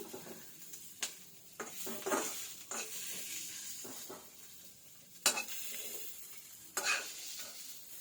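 Moringa leaves fry in a pan under a low steady sizzle, with intermittent stirring scrapes and sharp clinks of the utensil against the pan at irregular intervals.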